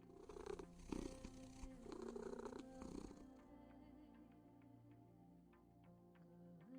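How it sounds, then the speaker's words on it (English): A cat in a video game purrs steadily in rhythmic rumbling breaths for a few seconds, then fades, leaving quiet ticking in the background. "I didn't know I could still purr."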